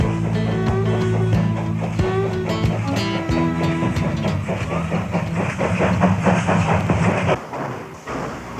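A Southern Pacific steam train worked by two engines, number 464 leading and helper number 461 cut into the middle, rumbles steadily along the rails with rhythmic clatter and sustained tonal whine, loud and close before fading near the end.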